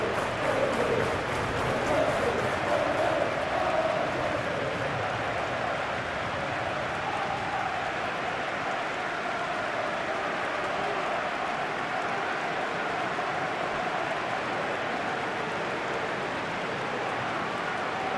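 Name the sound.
stadium crowd cheering in football video game Football Life 2025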